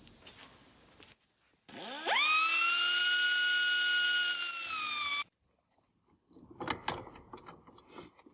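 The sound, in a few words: pneumatic cutting disc cutting metal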